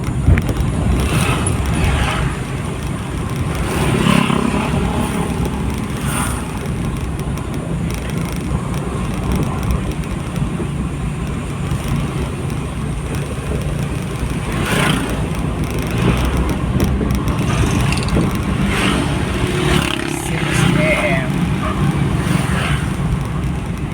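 Motor tricycles roll past on a road at six in the morning, a steady broadband engine rumble with several swells as vehicles go by, moderately close, with no one speaking.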